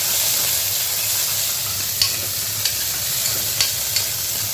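Onions sautéing in oil in a pan for a goat intestine curry fry, a steady close sizzle with a few sharp clicks of a spatula scraping the pan.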